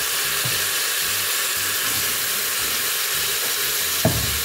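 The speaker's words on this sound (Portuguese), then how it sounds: "Fritou bem o nosso alho com sal, vou acrescentar a nossa carne." Beef pot roast goes into a pan of sizzling garlic fried with salt, giving a steady loud frying hiss with repeated low scraping stirs and a sharp clink near the end, no voices.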